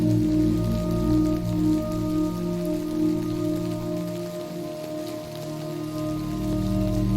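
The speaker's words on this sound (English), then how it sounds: "Well, it's raining." Steady rain in the video game Death Stranding, an even dense patter on surfaces running throughout alongside a sustained low tonal hum from the game's ambience.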